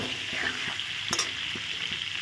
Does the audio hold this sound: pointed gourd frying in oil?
yes